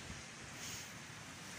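Sea waves wash against a rocky coast on Kos, Greece, in hot summer weather, a steady close surf hiss with some wind rumble and no talk.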